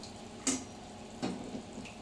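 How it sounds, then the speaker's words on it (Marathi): Hot water splashes into a cooking pan in two short pours about a second apart, close and moderately loud over a low background hiss. "इथे थोडं अजून गरम पाणी टाकते मी"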